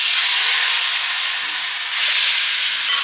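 Shrimp frying in a pan for coconut curry, giving a steady, loud hiss and sizzle that runs unbroken from start to finish.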